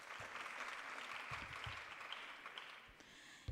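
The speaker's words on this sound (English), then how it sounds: "A round of applause for that, guys." An audience at a live-streamed talk claps in a dense, steady wash of applause that holds fairly evenly for a few seconds, fairly faint, without speech over it.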